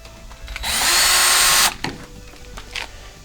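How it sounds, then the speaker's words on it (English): A power drill whines loudly for about a second as it bores through a metal vehicle tailgate, then stops, leaving light handling clatter. "now that you have your 2 holes marked, you just want to drill straight through"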